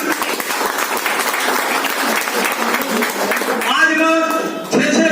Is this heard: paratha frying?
no